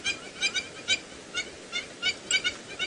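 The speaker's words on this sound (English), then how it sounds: "we have managed to find the gang of geese once again" A group of geese honks on safari grounds at sunset, a series of about a dozen short, nasal calls in uneven bursts, fairly close and clear over a low outdoor rumble, with no talking.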